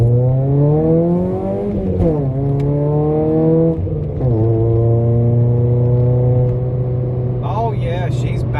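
A 1.7-liter old car engine revs hard while driving, its pitch climbing through each gear and then dropping at the shifts, loud and close inside the car, with brief voice sounds toward the end.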